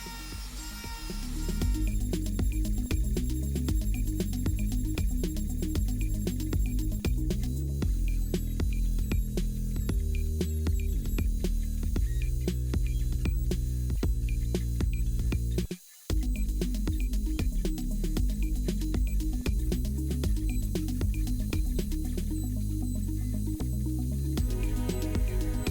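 A homemade CNC router runs an adaptive clearing pass, milling material while cutting a part machined on both sides: a steady, loud mechanical drone with rhythmic throbbing pulses, continuous throughout with one brief cut-out partway, no talk.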